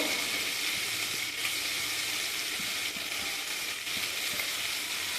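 Steady, close sizzling and bubbling from a pan of stuffed pointed gourd with prawns as water and spices go in, with a few soft knocks over a continuous frying hiss.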